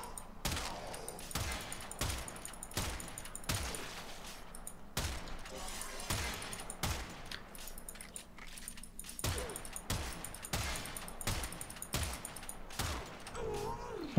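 The Prisma Grinlok rifle in Warframe fires a steady series of sharp, evenly spaced single shots, roughly two every second, each with a short ringing tail, over a low background hum.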